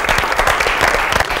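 A television studio audience claps loudly to welcome a guest singer onto a talk show stage, a brief, close burst of dense applause with no voices.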